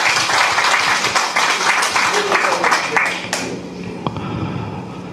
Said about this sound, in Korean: 이럴 때는 박수를 쳐야 돼요.